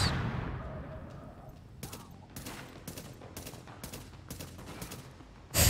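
Video game gunfire in rapid, evenly spaced bursts, loud and close, each shot a sharp broadband crack. The shots follow a fading rumble at the start and end abruptly at a louder burst.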